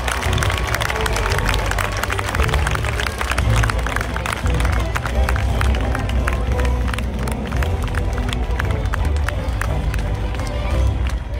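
A large outdoor audience applauds at a knights' tournament at La Baillée-des-Filles in Les Ponts-de-Cé, with sustained, dense clapping and some cheering throughout, loud and close.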